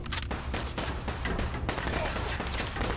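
Gunfire from the Fallout 4 video game: dense, continuous bursts of rapid shots fill the clip, loud and close with a rattling fusillade character, a voice faintly present beneath.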